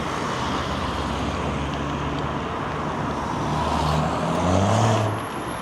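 A car passes on a road beside a mountain biker on a loop ride around ponds, its engine and tyre noise steady then rising as it draws near, with a deeper engine swell toward the end.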